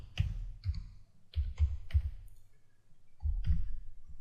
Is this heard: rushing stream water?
no